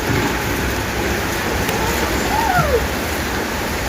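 Heavy rain pours down steadily in a dense, continuous hiss, heard while travelling in Thailand, with no breaks and a faint whistling tone briefly rising above it.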